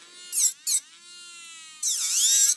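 An electric nail drill filing a nail whines steadily at high pitch, with short bursts of harsher grinding early on and a longer sustained grind near the end.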